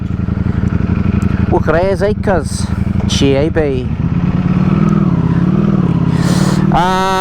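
A Streetfighter motorcycle with a Brentune tune pulls away from a standstill, its steady, loud engine drone running throughout while someone talks over it.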